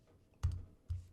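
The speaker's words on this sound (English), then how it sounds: "My keyboard is wireless." A wireless computer keyboard gives two quiet, separate key clicks about half a second apart, close and alone against a near-silent background.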